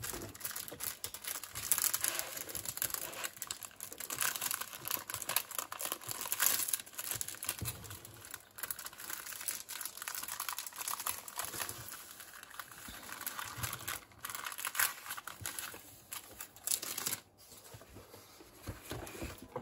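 Packaging for Batman collector magazine issues is unwrapped, with continuous close crinkling and rustling of plastic and paper, occasional sharper tearing crackles, steady for about twenty seconds without speech.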